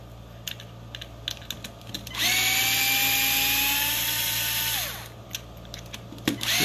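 A power drill backs screws out of an RC car, a steady high whine lasting roughly three seconds, with light clicks and handling noises before and after, close and fairly loud.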